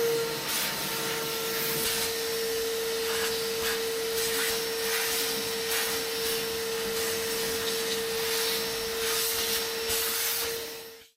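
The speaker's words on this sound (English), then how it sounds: "they do get clogged up really easily when you're vacuuming this kind of stuff" A vacuum cleaner runs steadily, picking up debris left from removing outdoor carpet, a constant close whine with a faint scraping, rustling texture over the top before it cuts off at the end.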